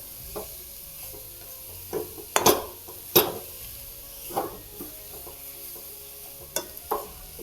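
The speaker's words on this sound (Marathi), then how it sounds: "आणि हे सतत हलवत राहायचं थोडासुद्धा हात सैल सोडायचा नाही असं मिक्स करीत राहायचं" Grated coconut mixture for coconut vadi is stirred nonstop in a pan, with sporadic sharp scrapes and knocks of the spoon against the metal over a soft sizzle, close up and without talk.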